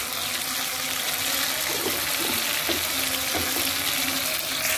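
Water pours steadily into a pan of catfish being cooked with ginger, a continuous splashing gush at moderate level, with no voices.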